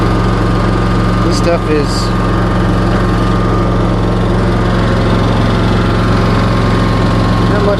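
A John Deere ZTrak zero-turn mower with freshly replaced spindles drones steadily in an overgrown field of tall grass, its engine loud and close throughout, while someone speaks briefly over the noise.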